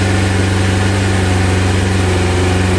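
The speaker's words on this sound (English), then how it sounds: "I'm gonna rev up the accelerator." A 1999 Suzuki Hayabusa motorcycle engine runs nearly cold, holding a steady, loud, close-up idle with a low throbbing hum and no clear rise in revs.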